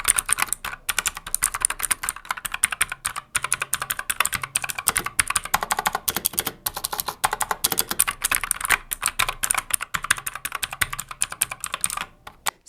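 Rapid clicky typing on a Crown Micro CMGK-09 mechanical keyboard with blue switches, close and steady, a dense stream of sharp key strikes with brief pauses and no voices.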